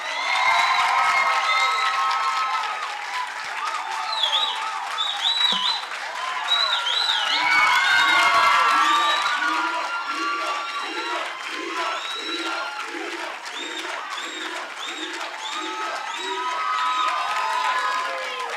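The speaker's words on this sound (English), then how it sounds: "give a resounding warm round of applause" A lively audience at a school learner leadership event claps, cheers and whoops loudly to welcome a speaker, with high shouts and rhythmic clapping running through the whole stretch.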